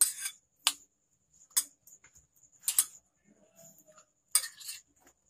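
A spoon clinks and scrapes against a bowl while mixing chopped fruit with black salt and chaat masala, giving a handful of sharp, separate taps spaced irregularly over quiet pauses.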